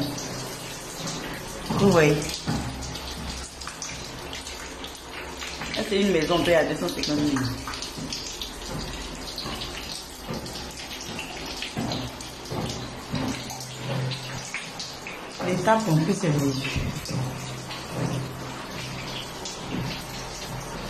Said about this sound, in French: C'est l'eau qui coule dans la maison de par la dalle.